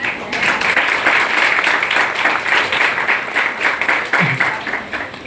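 Audience applause at a program in Navsari, a dense, steady wash of many hands clapping throughout, loud and sustained from start to finish.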